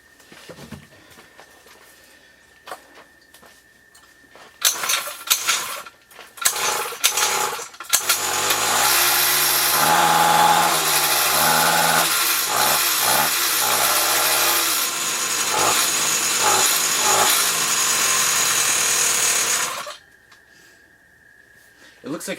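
A repaired two-stroke engine with a leak around the exhaust header starts after a few pulls and runs with a loud, buzzy, rapid rattle for about twelve seconds before cutting out, with quiet moments before and after.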